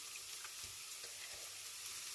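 Shrimp biryani ingredients fry in fried-onion oil, giving a steady close sizzle with occasional stirring sounds and no talk.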